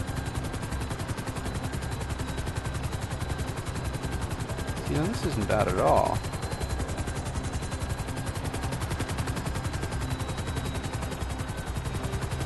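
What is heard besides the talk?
helicopter flying in GTA V video game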